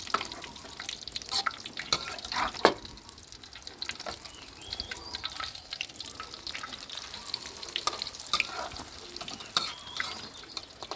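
A Thai omelette fries in hot oil in a pan, giving a continuous crackling sizzle with scattered sharp pops and spatters throughout.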